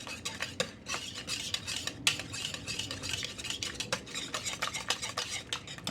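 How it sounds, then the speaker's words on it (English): Spoon stirring peanut butter into a moist loaf batter of cane and maple syrup in a bowl, a steady close run of scraping and clinking strokes with no talk. "I'm gonna mix the peanut butter in it."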